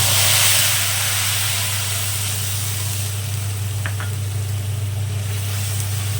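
A ground paste of onion, garlic and dried chilli sizzling in oil, a loud steady hiss up close with a brief scrape of stirring partway through.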